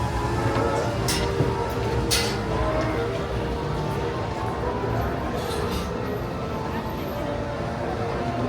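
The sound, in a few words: Disneyland sweeper train pulling into Main Street Station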